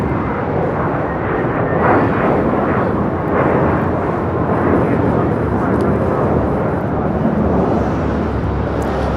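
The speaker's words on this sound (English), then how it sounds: "that's JetBlue 1374 on its way to New York" A JetBlue Airbus departing LAX for New York roars loud and close, a dense sustained engine thunder that fills the whole stretch without letting up.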